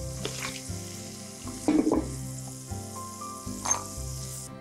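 Cashew nuts sizzle steadily in hot oil, with occasional stirring clatter, close and continuous.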